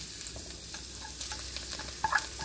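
Ginger, red chili and parsley fry in hot oil as a garnish for noodle soup, a close, steady sizzle with light stirring scrapes and no talk.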